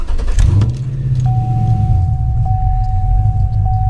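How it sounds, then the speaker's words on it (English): A 2006 Chevy Silverado Intimidator SS with an aftermarket cam starts up, a quick crank into a loud, close, lumpy idle that keeps rumbling steadily, with a faint steady tone chiming through, no talk. "now I'm gonna go ahead and start it, and I'm gonna let you guys hear it with the cam"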